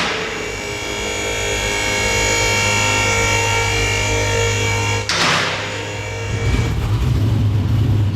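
A Ford Falcon drag ute's loud engine drones steadily, then a sharp shift midway as it revs up into a rougher, harsher roar, with no voices.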